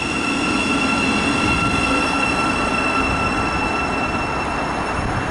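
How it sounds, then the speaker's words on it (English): An East Midlands Railway Class 360 electric train runs past Mill Hill Broadway station on its way from London St Pancras to Corby, a steady loud rumble of wheels on rail with faint squeal and high whine throughout. "will be a East Midlands Railway Class 360 going from London St Pancras International to Corby."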